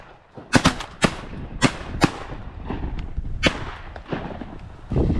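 Several sharp shotgun blasts fired at a mallard drake on a remote mountain river during a late-season duck hunt, a quick double followed by spaced single shots, loud and close with outdoor ambience between.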